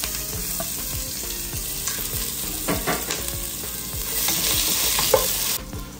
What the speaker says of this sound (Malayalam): നമ്മുടെ ഉള്ളി ആ സ്പൈസസിൽ കിടന്ന് ഏതാണ്ട് ഒന്ന് വഴണ്ട് വന്നിട്ടുണ്ട്.